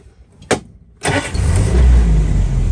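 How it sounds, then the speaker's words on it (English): A 1981 Land Rover Lightweight engine cranks over and catches, then settles into a steady, loud idle; a brief click sounds just before the start. "quick video of start up and idling on this lightweight"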